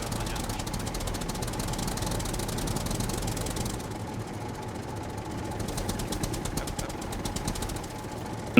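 A tractor engine in the video game SCUM runs steadily throughout, a continuous mechanical rumble with a knocking, chattering texture, fairly loud and up close, with no talk over it.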